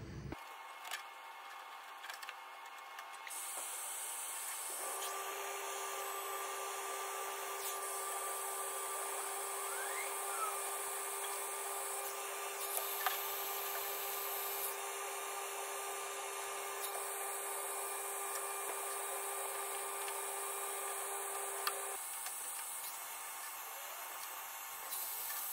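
A heat gun blows hot air over heat shrink tubing on a repaired corroded wire on a 2015 Vauxhall Vivaro, giving a steady, close airflow whoosh that runs for most of the stretch with no talk over it.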